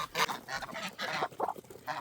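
A farm goose honks repeatedly at close range, loud nasal calls arriving in quick irregular bursts over a slightly noisy background.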